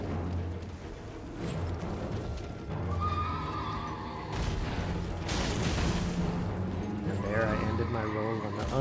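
A boss's horse in Elden Ring neighs and whinnies several times over clip-clopping hooves, with combat clashes and impacts, loud and close throughout.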